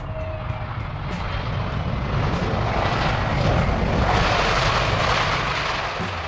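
Airbus A321XLR narrow-body airliner passes with a loud, continuous broadband engine roar that swells slightly in the middle and stays steady throughout, with no talking.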